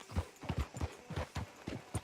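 Horse hooves clip-clop in a quick, steady rhythm on a town street in a Western video game, a close but fairly quiet series of hoof strikes with no talk.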